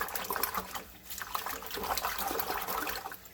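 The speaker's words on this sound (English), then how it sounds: "I'm just going like this with my hands in the water so I can clean off the quinoa." Hands swish and rinse quinoa in a bowl of water, giving continuous close splashing and sloshing with small liquid churns, steady and fairly loud with no talking.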